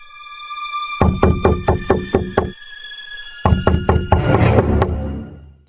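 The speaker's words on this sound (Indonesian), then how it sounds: "Serigala mengetuk pintu." A wolf raps on the door of a straw house in a cartoon, with two loud bursts of quick, sharp knocks separated by a brief pause and a ringing musical tone underneath.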